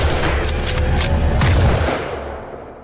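A loud burst of gunfire from a sniper's final shot in a film, with booming low rumble and sharp cracks, trailing off into a fading echo.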